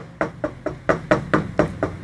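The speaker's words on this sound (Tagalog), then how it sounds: "Knock, knock." A run of knocks on a door, about eight evenly spaced raps over two seconds, close and fairly loud with no voice over them.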